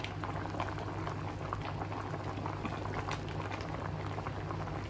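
Water boils hard in a pot for cooking crabs, a dense, steady bubbling and roiling heard up close, with a low hum beneath it.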